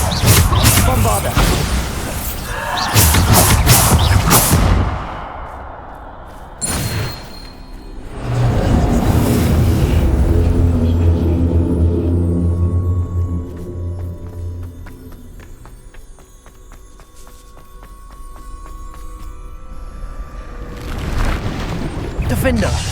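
Bombarda explosion spells in the Hogwarts Legacy video game, loud booming blasts and whooshes over a dense battle mix, with voices calling out between the impacts.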